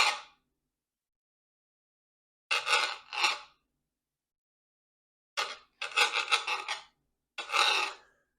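A knife saws through a soft pinwheel roll in several short, close rasping strokes, grouped in bursts of one to three with silent gaps between the cuts.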